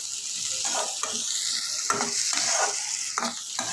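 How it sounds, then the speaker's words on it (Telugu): Corn kernels roasting in a hot pan for sweet corn soup, a loud continuous sizzle broken by repeated scraping stirs of a spatula, close up with no talking. "ఇప్పుడు కార్న్ గింజలు వేసుకుందాం."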